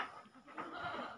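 Goats in a livestock pen bleat faintly and continuously amid a low, diffuse barn background, with no talking.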